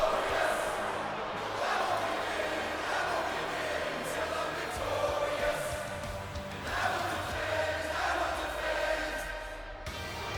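An arena crowd in the wrestling video game WWE 2K22 roars in a broad, continuous swell of cheering that rises and falls in waves, loud and dense, with no talk over it.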